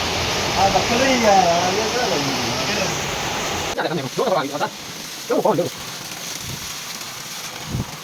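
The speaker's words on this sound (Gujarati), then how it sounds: "અત્યારે તો ફૂલ વરસાદ ચાલુ થઈ ગયો અત્યારે" Heavy village rain pours down in a dense, steady hiss for the first few seconds, then drops to a softer wash beneath a voice.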